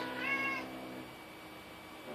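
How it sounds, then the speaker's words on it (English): A kitten gives one short, clear meow close by, then it goes quiet over a low room hum. "And I have a kitty meowing."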